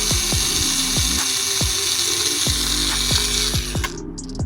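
Powered T27 Torx driver backing screws out of a throttle body on a 2020 Jeep Grand Cherokee V6, a steady loud whine with a rapid series of ratcheting clicks, close up, stopping abruptly near the end.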